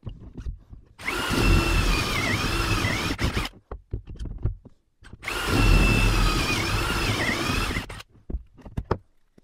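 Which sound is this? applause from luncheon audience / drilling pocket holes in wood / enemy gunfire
drilling pocket holes in wood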